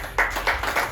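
Audience clapping at a campaign list presentation in Pointe-à-Pitre, heard as a few close, distinct hand claps in a steady rhythm over about a second.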